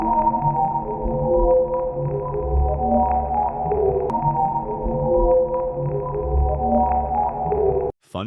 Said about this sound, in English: it entered interstellar space and recorded the sound of plasma waves.